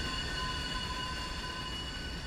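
A heavy train hauling about 977 tons in the railroad game Railroader rumbles along steadily, with a continuous rolling drone and faint high wheel squeal and no voices.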